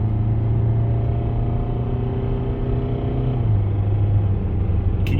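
A worn-out car engine idling with a steady, close rumble and a faint repetitive knock under the drone, its pitch dropping slightly partway through.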